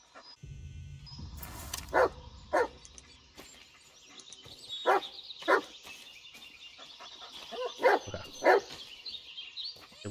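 Husky barking in the Blair Witch video game, a series of sharp single barks spaced a few seconds apart over quiet forest ambience with faint birdsong, fairly close and clear.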